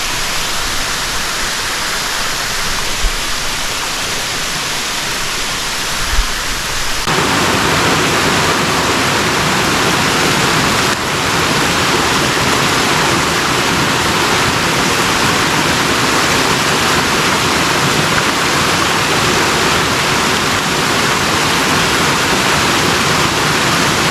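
A waterfall in Bali roars steadily and loudly as a dense, unbroken rush of water that grows fuller after the first few seconds.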